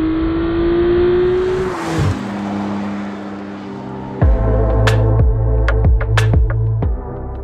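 A McLaren Artura's high-revving V6 holds a steady drone, drops away, then barks through a series of sharp, loud revs and crackles near the end.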